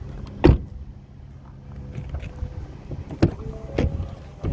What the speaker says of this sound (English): open this back door and I'll show you those power running boards